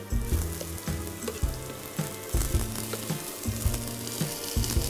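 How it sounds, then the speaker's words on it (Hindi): Chopped onion drops into hot oil and fries with a loud, continuous sizzle, heard close up with a few scraping stirs and no talking. "अब ये जाएगा सारा का सारा प्याज इस ऑयल में।"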